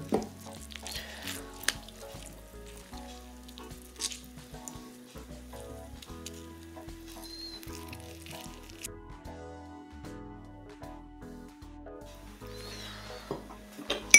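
Honey and lime juice stirred together in a bowl, with soft scraping, light clinks and a faint sizzling-like texture, alongside tonal kitchen background sounds and no talk.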